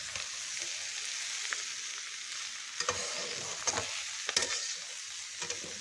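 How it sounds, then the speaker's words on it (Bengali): Jackfruit ghugni fries with spices in a pan, a steady soft sizzle broken by several sharp scraping stirs near the end. "ভালো করে একটু ভাজা ভাজা করে নিচ্ছি যাতে রেসিপিটা খেতে আরও বেশি ভালো লাগে।"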